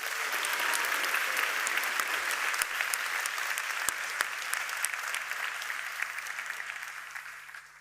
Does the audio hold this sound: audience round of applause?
yes